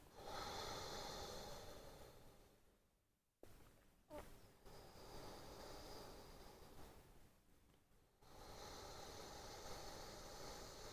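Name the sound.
slow breathing as if through a straw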